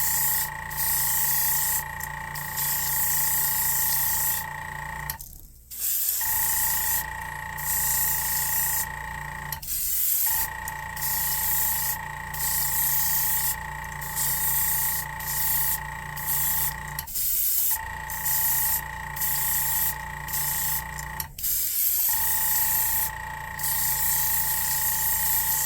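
An airbrush fitted with an 05 needle sprays a primer coat onto a crankbait lure in hissing bursts of several seconds each, separated by brief pauses, with the compressor's steady hum close by throughout.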